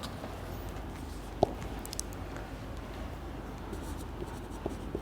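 Writing on a board or paper during an English grammar lesson, faint scratchy strokes with a few light taps, close and quiet under a low room hiss.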